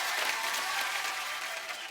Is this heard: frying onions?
no